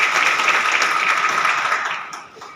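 Loud, dense applause from a crowd at a women's empowerment rally in Omerga, honouring the association's president. It is sustained and close for about two seconds, then thins out toward the end.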